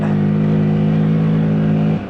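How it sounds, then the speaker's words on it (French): A Loncin Xwolf motorcycle's single-cylinder engine drones loud and close in a steady, sustained rev, then drops off abruptly at the end. "il fait un gros bruit le moteur. Il fait un gros bruit ce mono"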